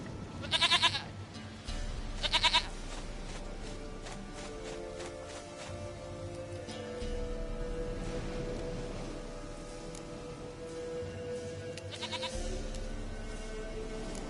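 Goat bleats in The Witcher 3: Wild Hunt come in a few sharp, close bursts over steady background game ambience, with longer quieter stretches between them.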